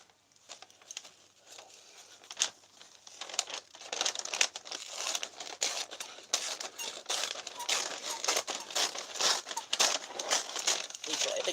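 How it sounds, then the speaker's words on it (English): Thin wrapping paper crinkling and rustling continuously while presents are wrapped, close and fairly loud, with irregular crackles building over several seconds. "have to be very careful with this thinner wrapping paper."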